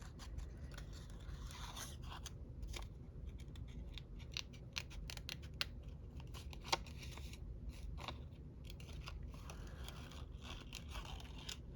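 Close scissors snip and crunch through paper in a long, irregular series of crisp cuts, mixed with faint rustling over a low steady background hum.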